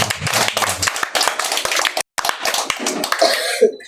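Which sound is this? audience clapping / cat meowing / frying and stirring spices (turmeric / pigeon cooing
audience clapping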